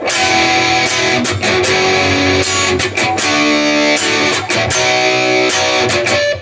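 Loud, distorted electric guitar chords ring out in a steady riff, with rhythmic stabs and sustained strums and no voices.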